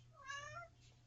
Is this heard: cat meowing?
yes